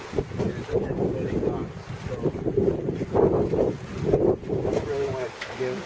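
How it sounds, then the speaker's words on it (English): Strong wind buffets a marina on a boat being readied to test storm sails, a steady loud roar with microphone gusts rising and falling throughout, and voices talking underneath. "it's really windy"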